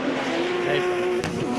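BMW M Performance Parts race cars in a 2023 circuit race pass side by side across the line, a loud steady engine drone with a sustained tonal whine and a brief louder whoosh near the end, under a race commentator's voice.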